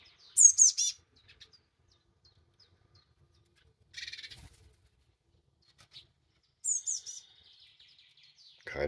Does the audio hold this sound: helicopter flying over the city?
no